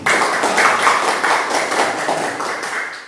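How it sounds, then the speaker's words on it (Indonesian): A classroom full of students claps together, a dense, steady burst of applause lasting a few seconds at close range before tapering slightly. "sekali lagi kita kasih aplaus untuk kita semua"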